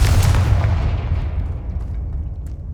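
A Confringo spell in Hogwarts Legacy bursts as a single loud, deep explosion that booms at once and then fades into a rumbling decay over a couple of seconds.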